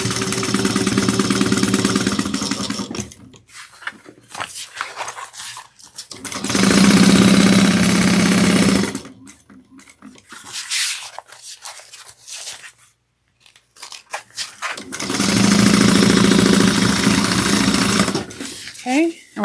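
A sewing machine stitches around a drop-in bag lining in three loud, close bursts of rapid, even whirring, and someone talks in the quieter gaps between them.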